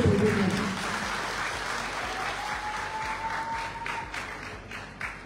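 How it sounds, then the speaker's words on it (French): Supporters at a UFDG party general assembly rally in Conakry, Guinea, applaud in a broad, sustained burst of many hands clapping, with some voices and a faint tone running beneath the crowd. "Applaudissez pour nous."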